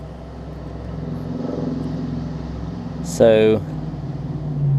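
An old Murray lawn mower with small wheels and a Briggs & Stratton Classic engine idles in a low, steady drone, apparently missing its governor spring, with a brief spoken phrase over it partway through.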